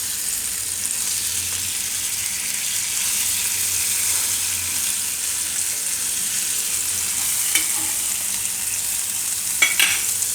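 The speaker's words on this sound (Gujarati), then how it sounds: "તો બે બાજુને આપણે શેકી લેવું." Ghee-brushed malai roti, folded and roasting on both sides on a hot pan, gives a steady soft sizzle throughout with a couple of faint scrapes near the end, no voices.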